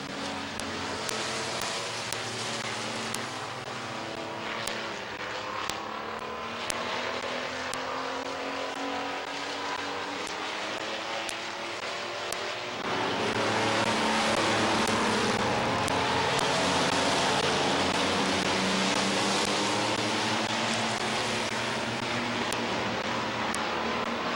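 Race cars lap Midvale Speedway in a loud, continuous engine roar with repeated passes, and the roar thickens into a denser, louder wash partway through as cars bunch up close by.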